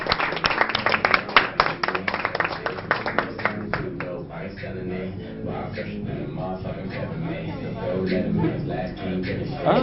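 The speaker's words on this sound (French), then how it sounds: "Je vous demande d'applaudir le plateau de Miss International Guadeloupe." A studio audience on a Guadeloupe television show claps for the guests of a Miss International Guadeloupe segment, sharp hand claps at first thinning into a broader wash of sound, with talking over the latter part.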